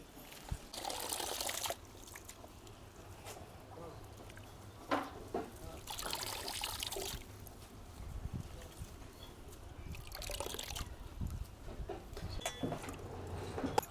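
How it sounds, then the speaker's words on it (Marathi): Vegetables being rinsed in two changes of water in a home kitchen, with splashing, pouring and trickling water coming in bursts, close and moderately loud, alongside faint background noise. "मस्त दोन पाण्यानी भाजी धुवून काढूया आपण"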